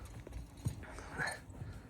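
Horse hooves clip-clop faintly for a moment, a few soft distant steps against quiet background noise.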